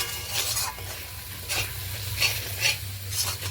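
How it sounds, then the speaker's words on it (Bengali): Spice masala stirred and fried in a pan for fish curry, a steady sizzle under repeated scraping strokes of a spoon, close and moderately loud with no voices. "আমাদের মশলাটা কষিয়ে নিচ্ছি আমরা।"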